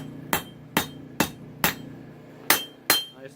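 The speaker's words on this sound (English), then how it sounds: "so I've switched to my smaller ball peen hammer" A small ball peen hammer strikes a knife being forged from a chainsaw bar, giving six sharp, ringing metallic blows at a slow, steady pace, close and loud with no speech.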